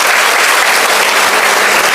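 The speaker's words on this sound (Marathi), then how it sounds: "त्यांच्यासाठी एकदा जोरदार टाळ्या होत्या" A crowd of teachers at a talk gives loud, sustained applause, a dense, even wash of clapping with no pauses from start to finish.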